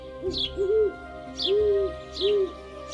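An owl in the Amazon hoots in clear, close calls, four or five rising-and-falling notes spaced about a second apart, each trailed by a faint higher chirp, over a quiet background hum.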